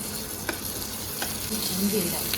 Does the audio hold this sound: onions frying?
yes